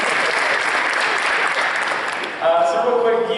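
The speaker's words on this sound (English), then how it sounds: "Give him a round of applause at the end." A football awards ceremony crowd bursts into dense, sustained applause that fills the room, then a voice begins speaking over the thinning clapping near the end.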